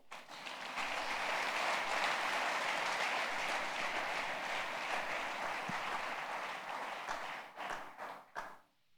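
A church congregation at a Sunday service claps and cheers together for several seconds, a dense sustained wash of applause that thins into scattered last claps near the end, heard from within the crowd.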